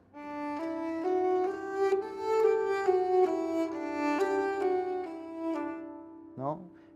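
Nyckelharpa, the traditional Swedish bowed keyed fiddle, played legato: a smooth, connected melodic line of sustained bowed notes flowing into one another, close and moderately loud, with no talking, ending in a short sliding scrape.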